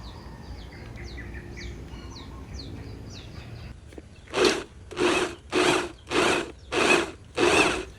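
A power drill used for crushing discarded vegetables, switched on in six short even bursts of whirring, loud and close, after a quiet stretch with faint birds chirping in the background.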